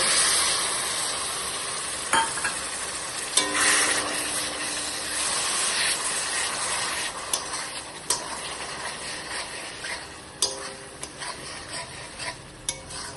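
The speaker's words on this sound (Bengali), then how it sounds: "মশলাটি আমার ভাজা হয়ে গেছে" Spice paste for a pomfret fish curry sizzles and fries in a pan, a steady close hiss broken by sharp scraping clicks as it is stirred, with no talking.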